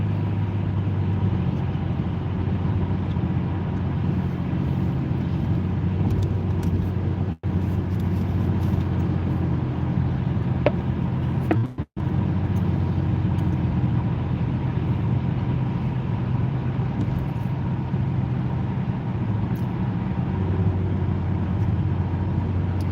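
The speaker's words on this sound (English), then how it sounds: "dealing with all this traffic on the interstate" Steady interstate highway traffic heard from inside a moving car, a continuous low road and engine rumble with broadband tire noise, interrupted by two brief dropouts.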